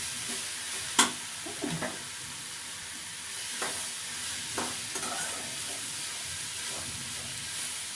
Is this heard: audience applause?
no